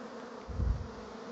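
Honey bees humming inside a hollow log hive, a close, dense buzz that swells briefly and then settles back to a steady drone.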